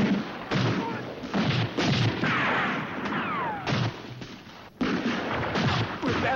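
A battle scene from the 1979 film Riel carries loud, close bursts of gunfire and booming artillery, several sharp cracks breaking through over a few seconds with brief lulls between them.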